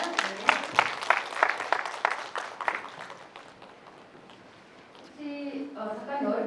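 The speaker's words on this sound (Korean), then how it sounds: "김용석 작가님께 다시 한번 뜨거운 박수 부탁드리겠습니다" Audience applause for an author at a humanities lecture, a burst of clapping under a host's voice that fades into quiet before speech resumes.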